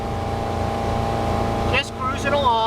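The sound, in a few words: 1997 Bayliner 1950 Capri bowrider motorboat running at speed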